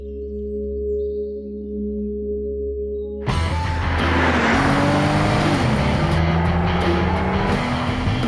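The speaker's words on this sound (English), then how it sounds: "Open road, howl of the engine, the wind in your hair." A car engine howls at speed after a steady humming tone cuts off abruptly, the revs rising and falling loudly through gear changes with some tire noise.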